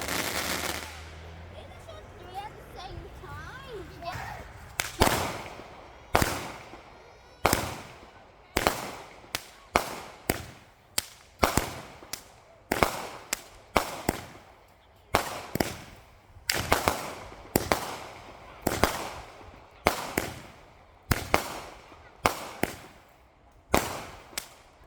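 Fireworks and firecrackers for Memorial Day go off in a long series of sharp, loud bangs, spaced irregularly about a second apart, with quieter crackling and a brief voice near the start.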